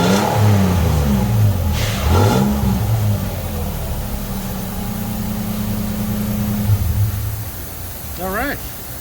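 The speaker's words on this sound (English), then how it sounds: "see what this one sounds like. Yeah, rev it up!" A car engine fitted with a Walker Quiet Flow muffler revs up and settles, a loud close exhaust drone rising and falling through several throttle blips, with voices speaking over it.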